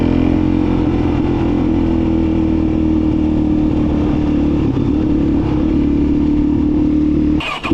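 A Suzuki DRZ dirt bike engine, dead when bought and now revived, runs loud and close with a steady clattery mid-pitched drone and slight rev swells, cutting off abruptly at the end.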